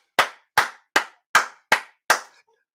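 Six sharp, isolated hand claps land at an even rhythm, each one crisp and close with a quick decay and silence between them.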